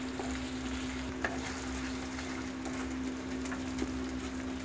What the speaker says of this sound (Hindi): इसको जब तक मेल्ट हो, तब तक हम इसे इसमें ही पकाएंगे और हिलाते रहेंगे।